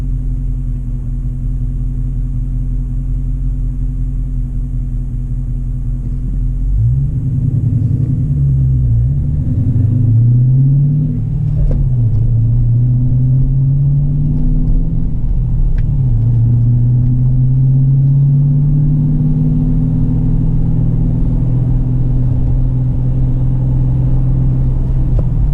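A 2018 Dodge Challenger R/T 392 Scat Pack with a 6.4L Hemi V8 and a cold air intake idles with a deep, loud rumble, then revs up and down in several rising and falling pulls before settling into a steady drone.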